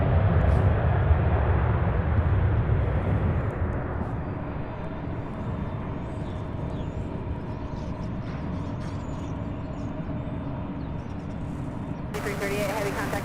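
Airliner taking off at Louisville International Airport, a loud rumbling jet roar that is strongest at first and then eases into a steady distant rush, with faint voices over it.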